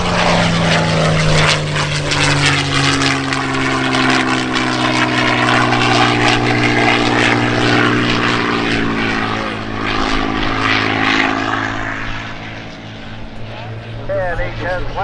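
A WWII fighter propeller plane takes off, its engine a loud, sustained droning roar with a rich harmonic hum that shifts slightly in pitch as it climbs away, while a voice talks over radio chatter.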